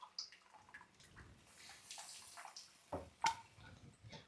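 Tamarind juice poured into a pan of paste cooked in oil: a faint, uneven splashing and trickle of liquid with a few small drips and knocks, quiet throughout.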